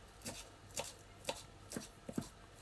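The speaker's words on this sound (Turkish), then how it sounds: "Roka doğruyorum." Arugula is chopped with a knife for a salad, about five soft, evenly spaced cuts against a board, close but quiet, with no talking.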